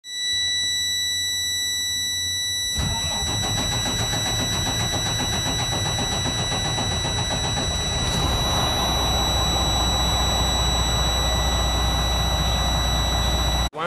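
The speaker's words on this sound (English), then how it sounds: "So now it's time to start the engine." A steady electronic warning tone sounds, then a starter cranks and the DD13 diesel engine of a Freightliner Cascadia truck catches, settling into a loud, continuous rumble.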